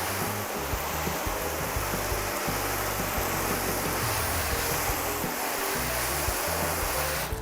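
Water sprays steadily across a waxed car being rinsed, a continuous loud hiss of water hitting the paint with a low rumble underneath, close and unbroken.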